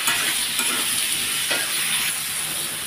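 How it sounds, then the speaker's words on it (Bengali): Garlic and chili paste frying in a pan for a potato and egg curry, stirred steadily, with a continuous close sizzle and scraping of the spoon through the paste. "এর মধ্যে এখন আমি ওই রসুন বাটা আর লঙ্কা বাটাটা অ্যাডজাস্ট করে দিলাম। সেটা একটু ভালোভাবে নাড়াচাড়া করে নেওয়া।"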